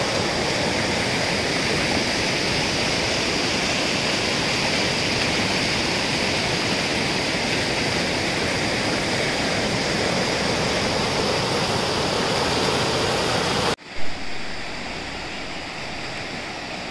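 A flooded Konkan stream in heavy rain rushes in a steady, loud broadband roar, continuous and close, then cuts abruptly to a quieter, duller wash near the end.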